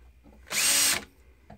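A power drill spins an RCBS wire primer pocket cleaning tool in a short, loud, steady whir of about half a second, close up, with no talk.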